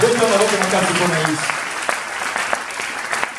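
Church congregation applauding for Jesus during a sermon, sustained hand clapping with a voice speaking over the opening moments before the clapping carries on alone, sharp individual claps standing out.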